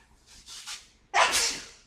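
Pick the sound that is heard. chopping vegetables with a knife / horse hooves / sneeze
sneeze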